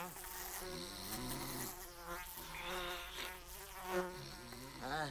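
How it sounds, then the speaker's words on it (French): Fly buzzing in an animated show, a continuous close, wavering drone that rises and falls in pitch as it circles, heard alone without voices. "C'était que ça, rien qu'une mouche."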